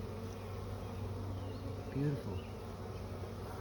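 Honey bees hum in a steady, close drone from an open hive, a continuous buzz with a brief louder swell near the middle as a voice speaks a single word.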